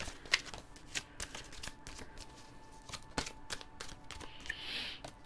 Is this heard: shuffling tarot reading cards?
yes